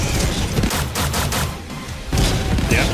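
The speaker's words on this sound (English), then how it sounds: "He dies in like 4 shots to the head with these rockets." Rocket fire from a mech in the Helldivers 2 video game, a dense loud barrage of repeated blasts and booms that runs continuously, surging again near the end.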